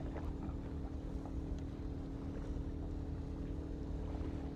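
A motorboat motors by close to small racing boats out on open water. Its engine gives a steady, continuous drone, mixed with rushing wind buffeting the microphone and no talk.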